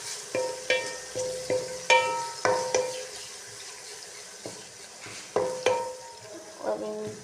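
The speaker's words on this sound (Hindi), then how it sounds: "हम इसमें शामिल करेंगे लहसुन अदरक का पेस्ट, टमाटर और हरी मिर्च कि हम इसमें ऐड करके इसको अच्छे तरीके से कर लेंगे मिक्स" Onions fried with garlic-ginger paste, tomato and green chilli, the spoon scraping and clacking against the pan in a steady series of sharp stirring strokes over a low sizzle, close and clear with no talk.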